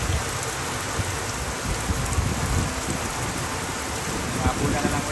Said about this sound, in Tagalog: Paulan na ng ulan.